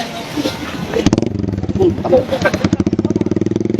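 A motorcycle engine fires up at a roadside checkpoint for a decibel meter exhaust test, settling into a steady, rapid throbbing idle close by while people talk over it.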